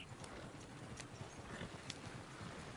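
Horse hooves clip-clop steadily in the Red Dead video game, a continuous trotting rhythm at moderate volume over a dense bed of ambient game noise, with no speech.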